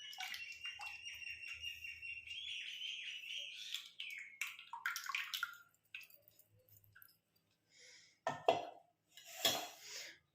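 Water splashes and swirls in an iron pot, with clanks and scraping as it is rinsed, followed by a few drips and pours.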